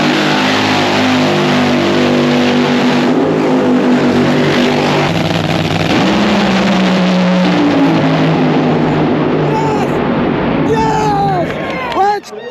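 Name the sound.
drag race car launching and accelerating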